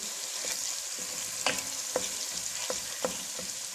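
Paprika and cinnamon being stirred in a cooking pan, a steady soft sizzle broken by several sharp scraping clicks of the spoon against the pan, close and moderately quiet.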